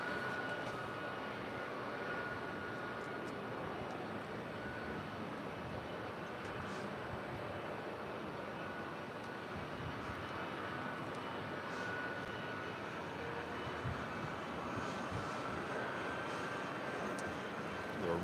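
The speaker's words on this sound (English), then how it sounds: "Here we have Delta Connection Flight 3500 coming in from San Jose." A Delta Connection Embraer E175 LR jet lands at LAX, its engines a steady, moderately distant roar that holds evenly throughout.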